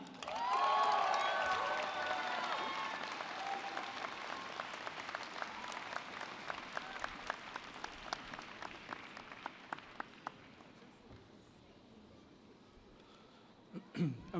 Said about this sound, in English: How about one more round of applause for these amazing graduates?